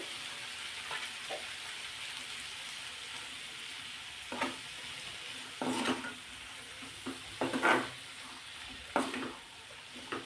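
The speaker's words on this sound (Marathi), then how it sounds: "आता हे सर्व वालपापडी टाकून आपण मिक्स करून घेणार आहोत मसाल्यामध्ये" Val papadi beans tossed in masala in a pan, with scraping stirs and soft sizzling that rise in bursts over a steady frying hiss, close and fairly quiet.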